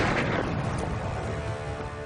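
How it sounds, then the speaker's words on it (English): Gunfire booms and rumbles continuously across a lake, a dense, low, echoing barrage with no clear gaps between shots. "One day gunfire does ring out over the lake."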